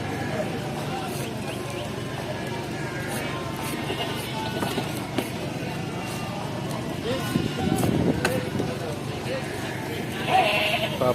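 Garut sheep bleating in a livestock pen, a few calls rising over steady background noise and people talking nearby, with a louder bleat near the end.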